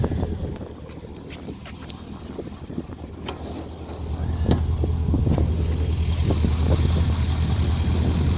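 A car engine idling smoothly and steadily, a low continuous rumble heard up close with some wind buffeting the microphone, growing slightly louder partway through.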